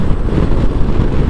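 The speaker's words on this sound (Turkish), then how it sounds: "İnanılmaz bir rüzgar var." Strong wind roars into the microphone outdoors in Ankara during a motorcycle ride. The buffeting is loud and continuous, with a dense low rumble and no voices.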